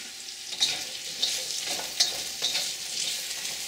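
Tanka bites stir-fried in a pan with garlic, a steady close sizzle broken by a few sharp utensil scrapes and clacks as the pieces are tossed.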